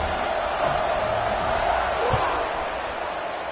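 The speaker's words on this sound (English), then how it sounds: "You think this crowd's going to get loud when their defense comes on the field?" Stadium crowd noise from a college football video game, a steady broad roar of a large crowd held at an even level throughout, with a brief low thump near the middle and no clear speech.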